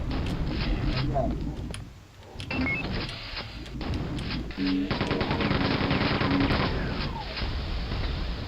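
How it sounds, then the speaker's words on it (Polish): Rapid bursts of gunfire and a loud blast in Quake 2, with players talking excitedly over the noisy, chaotic action. "O, wybuch."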